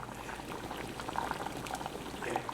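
Cognac sauce boils in a pan, a dense, steady bubbling and popping heard close up without pause for the full stretch, with no voices over it.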